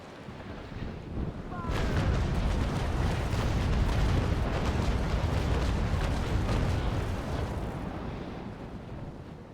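Naval Action ship cannon fire erupts in a sustained, rumbling roar of broadside blasts, booming low and heavy over wind and sea noise, with crackling reports layered through several seconds before fading.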